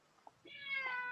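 A cat meows during a live stream workout class, with soft tonal cries swelling and holding near the microphone over faint background noise.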